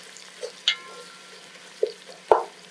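Onions frying in a pot for pilau are stirred, making a few sharp scrapes and clanks of the spoon against the pot over a faint sizzle, close and sparse.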